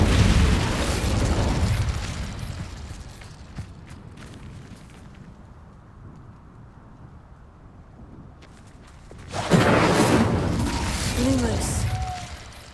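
The Incendio fire spell in Hogwarts Legacy erupts in a loud whooshing burst, fades into a low rumbling lull, then flares again with a second blast near the end, with game sounds around it.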